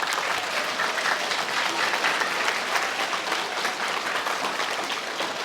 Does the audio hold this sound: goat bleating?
no